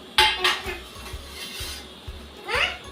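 A plate of biscuits is set down, making several close ceramic clatters and clinks in quick succession in a quiet indoor room.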